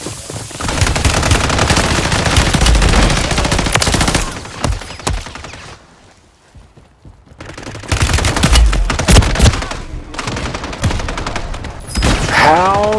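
Video game gunfire in loud rapid bursts, machine-gun volleys that drop out briefly and then return with more shots.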